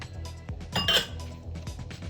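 Scrambled eggs going into a pan on a stove set to low heat, heard as a brief cluster of clinks and scrapes of utensil against pan, close and moderately loud, with no talk.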